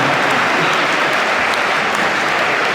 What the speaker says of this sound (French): Et il faut applaudir à ce moment-là